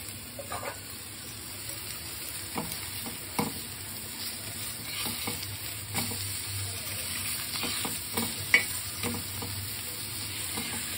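Small bombil (Bombay duck) fish frying on a flat tawa pan, a low steady sizzle under scattered scrapes and taps of a spatula as the pieces are flipped, close and fairly quiet, with no talking.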